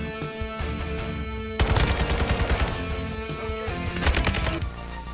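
Rapid bursts of AK-47 Kalashnikov automatic rifle fire from a video game, sharp repeated cracks in fast rhythm over music, loud and close, with a quieter stretch before the shooting starts.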